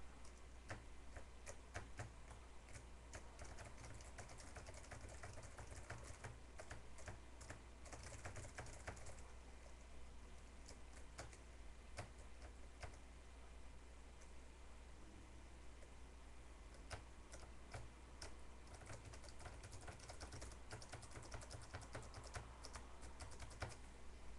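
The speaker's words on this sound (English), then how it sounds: "I can hit a keyboard button." Rapid clicking of keys on a computer keyboard, a dense run of close, crisp taps that continues in bursts across the whole stretch over a low electrical hum, with no voices.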